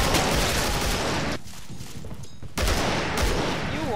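AK rifle fire in the co-op shooter Killing Floor: loud, dense bursts of rapid automatic shots that stop for about a second and then resume with the same sustained rattle.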